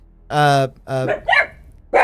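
Dogs bark in a few short, loud, close bursts in a home during a tabletop role-playing session, with a whimpering yip between barks and no talk over them.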